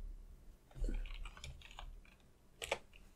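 An Ajazz Battle Axe keyboard being typed on produces a short, quiet run of key clicks at an uneven pace, with a brief louder cluster near the end.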